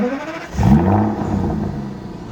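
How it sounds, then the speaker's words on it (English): An Aston Martin DB9 with a 6-litre naturally aspirated V12 making 450 horsepower revs up close, its engine note rising and holding in a loud, steady howl for a couple of seconds. "it makes the most glorious V12 howl"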